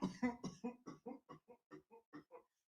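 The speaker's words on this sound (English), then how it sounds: "I'm sorry for coughing in the mic." About a dozen short coughs in a steady rhythm, loud and close into a microphone, each burst separated by brief silence.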